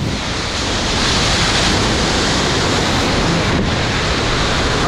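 Sea surf pounding a rocky shore on San Lorenzo Island off Callao, a dense, steady roar of breaking water with wind buffeting the microphone, loud and continuous with no voices.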